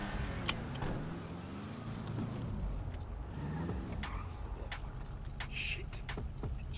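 A car engine in the video game GTA 5 hums steadily in the background with scattered clicks and small knocks on top, moderately loud and continuous.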